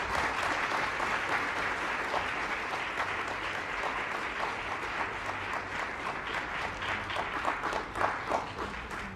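An audience at a formal diplomatic event applauds a speaker being welcomed to the stage, with steady, full-room clapping that holds for about nine seconds and swells slightly near the end.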